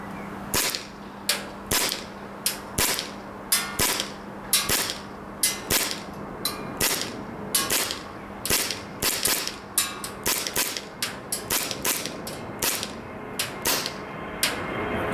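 Army Armament R609 military pistols firing in a rapid irregular string of sharp, loud shots, dozens of cracks across the span with brief gaps, a steady low hum underneath and no talking.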